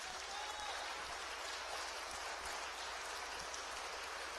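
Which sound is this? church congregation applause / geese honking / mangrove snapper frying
church congregation applause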